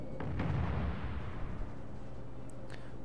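A heavy naval gun report from the German battleship Scharnhorst's 11-inch shells in World of Warships, a deep booming blast at the start decaying into a low rumble, followed by faint distant clanks.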